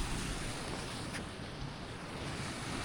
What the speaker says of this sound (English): Hear rushing water.